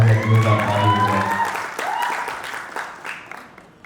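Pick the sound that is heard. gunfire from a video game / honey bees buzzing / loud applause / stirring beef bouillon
loud applause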